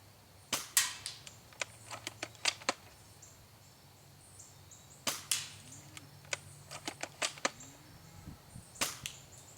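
A TSD L96 V2 airsoft sniper rifle fires at a target outdoors, sharp isolated cracks with several snappy clicks and ticks after each, in scattered clusters over a quiet background.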